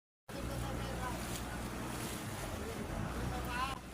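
A large, long ship moves fairly fast through open water, giving a steady rushing wash of water and wind buffeting the microphone, loud and continuous after a brief silent start.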